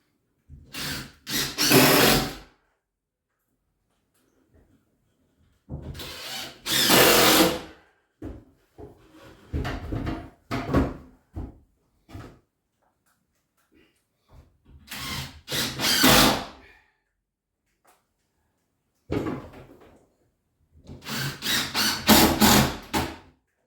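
A power drill drives big screws into a plasterboard ceiling in several separate bursts, each a whirring, rising run of a second or two, with quieter handling noises and clicks in the gaps between.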